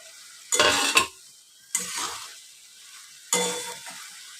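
Okra is stirred in hot oil in a pan, giving three separate bursts of sizzling and stirring, each loud at the start and then settling into a softer fry, with no talking.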